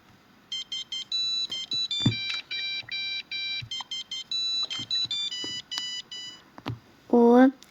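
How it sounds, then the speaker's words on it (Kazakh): A mobile phone ringtone plays a repeated electronic melody of bright, steady tones in short phrases, with soft thuds and clatter underneath and a brief voice near the end. "Әпкемнің телефоны шырылдап жатыр екен ғой"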